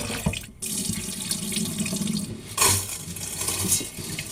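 Running water pours into a basin while 2.5 kilos of glutinous rice are washed, a steady close splashing and trickling with a few louder gushes and no talk.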